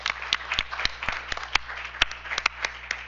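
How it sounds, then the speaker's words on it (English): A small audience at a school district board meeting claps, a sparse scattering of individual hand claps rather than a full ovation, steady for a few seconds. "let's give them a round of applause"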